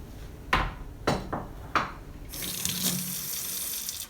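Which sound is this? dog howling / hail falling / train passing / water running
water running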